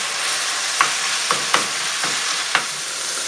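Onion sizzles in oil in a frying pan while a utensil stirs it, with a constant hiss broken by four or five distinct scraping strokes.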